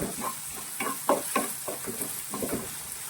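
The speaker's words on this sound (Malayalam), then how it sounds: "ഈ സവാളയും വെളുത്തുള്ളി എല്ലാം നല്ലവണ്ണം ഗോൾഡൻ ബ്രൗൺ ആയതിന് ശേഷമേ നമ്മൾ അടുത്ത ഇൻഗ്രീഡിയൻറ്റ് ചേർക്കാവുള്ളൂ" Sliced onion and garlic frying in oil for a North Indian dal curry, a steady close sizzle broken by scraping stirs of a spoon in the pan, no voices.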